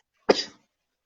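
A single short, sharp cough from a person, close and alone against silence.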